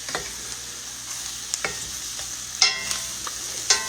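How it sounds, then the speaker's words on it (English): A utensil scrapes across the bottom of a roast pan full of juices, giving short irregular scratchy strokes over a low sizzle, close and fairly loud with no talking. "now scrape the bottom of your pan a little bit because you want to get all those good juices from that roast"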